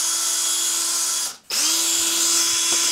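A power drill spinning an oil gallery brush whirs steadily at high pitch, stops briefly, then spins back up and keeps running; no voices.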